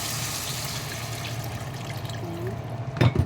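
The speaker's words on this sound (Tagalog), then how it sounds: "Ilagay ko na yung aking tubig. Ilagyan ko na siya ng konting tubig." Water poured into a cooking pot of tomatoes, a steady close trickle over kitchen background hum, ending in a brief louder splash.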